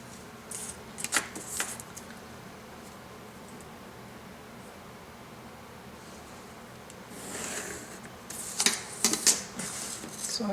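Scissors cutting thin sheets of paper for an origami bow, heard as short, crisp snipping bursts near the start and a louder cluster near the end, with quiet gaps between.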